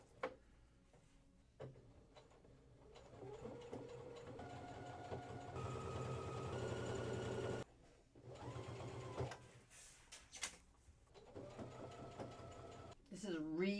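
Sewing machine stitching through a thick seam of sweatshirt fabric, pocket and two layers of ribbing, running in several whirring bursts with pauses between, close and clear, with a voice talking between the runs.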